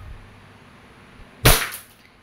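A single sharp crack of an E&C airsoft Glock 17 Gen 5 pistol firing, close and loud against a quiet background, with a quick decay.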